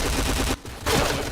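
Rapid bursts of gunfire in the shooter game Point Blank, loud and close, with a short break partway through before the shooting resumes.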